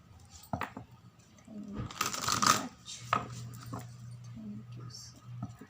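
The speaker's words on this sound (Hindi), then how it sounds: "ये कार्ड थोड़े बड़े हैं तो इन्हें शफल करने में थोड़ी सी प्रॉब्लम होती है।" Oversized cards being shuffled by hand, a burst of riffling and rustling around the middle with softer handling sounds before and after, close by, over a low steady hum.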